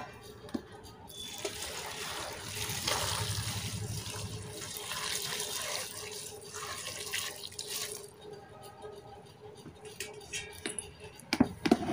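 Boiled water pours steadily into a pan for several seconds with a rushing, splashing sound, then thins to a trickle with a few light clinks near the end.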